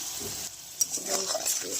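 Steady frying sizzle of turmeric, cumin powder and Kashmiri chilli powder in oil, with light stirring clatter, close by, with a brief sharp scrape partway through.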